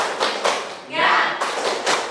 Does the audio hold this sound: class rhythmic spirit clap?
yes